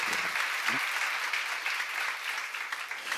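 A church congregation at a seminar breaks into applause, a thick, continuous burst of clapping with a brief voice just before it, steady and loud throughout.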